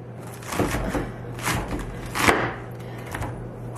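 A knife cuts the core out of a tight head of cabbage for homemade sauerkraut, producing a handful of close, crunchy chops and cracks at uneven intervals over a low background hum, with no voices.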